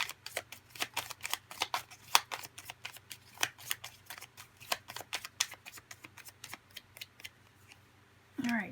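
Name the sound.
tarot cards being drawn from a pile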